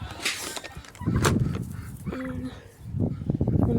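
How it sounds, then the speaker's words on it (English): Excited turkeys calling as they follow someone they expect to feed them, with gobbling and honk-like calls rising and falling in loud, overlapping bursts close by. "The turkeys are following me because they think I got food for them, which I don't."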